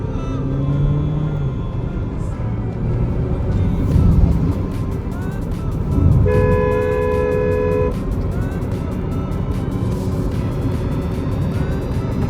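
A Changan Oshan X7 SUV with a 1500cc turbocharged engine accelerates from a standstill, its engine drone rising steadily amid road and traffic rumble, with a brief car horn toot from nearby traffic midway.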